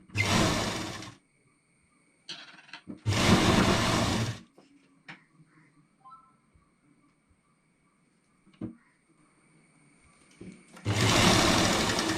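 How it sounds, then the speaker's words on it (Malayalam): A sewing machine stitches down a folded fabric edge on a simple wrap top, running in three loud bursts of steady whirring with quiet pauses and small handling clicks between them. "മടക്കി തയ്ക്കുക."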